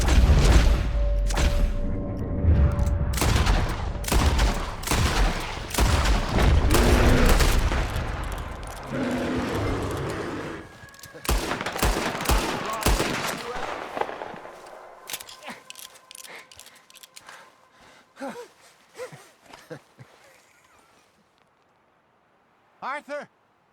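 Gunfire in Red Dead Redemption 2, with dense volleys of loud, close shots and booming blasts for about ten seconds, then sparser scattered shots fading out, and voices speaking amid the fighting.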